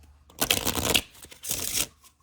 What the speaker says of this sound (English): Got to give him a good shuffle.